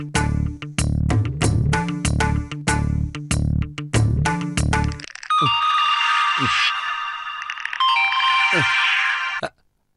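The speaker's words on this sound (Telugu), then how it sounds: "గౌతమ్కి ఫోన్ చేయండి." A phone rings in a Telugu comedy serial, first as a repeated pulsing electronic ringtone, then shifting into a bright, sustained melodic ring tone, fairly loud and near, ending abruptly.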